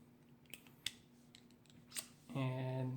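Hand pruners snipping fresh fig tree branches into cuttings, giving a few sharp clicks before a steady tonal hum rises near the end.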